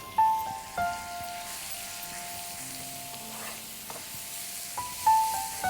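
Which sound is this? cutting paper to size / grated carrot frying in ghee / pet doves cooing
grated carrot frying in ghee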